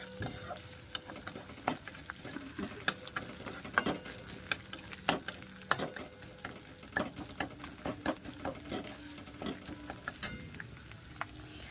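Spices and ingredients frying in a pan while cooking dahi chana, with a continuous low sizzle under frequent sharp clicks and scrapes from stirring, heard close and without talk.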